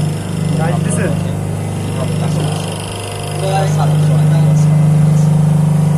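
A shoe embossing and cutting machine runs with a steady low motor hum and drone close by, swelling slightly and dipping near the middle, while someone talks over it.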